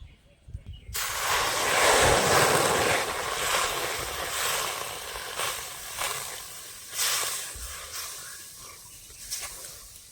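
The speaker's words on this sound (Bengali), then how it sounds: "এখন এর মধ্যে জল দিয়ে দেবো" Water poured into semolina and flour frying in a pan, setting off a sudden loud hiss and bubbling sizzle that gradually settles into a softer, crackling simmer, close up.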